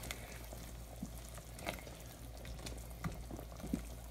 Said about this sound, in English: Turn it down to simmer.